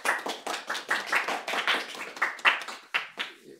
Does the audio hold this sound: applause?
yes